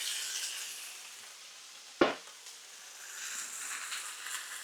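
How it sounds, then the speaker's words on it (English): Onions sizzle steadily in a frying pan with a soft, continuous hiss, broken once by a sharp clatter as they are stirred or flicked, then settling back into a gentle fry. "We're cooking the old onions in that, guys."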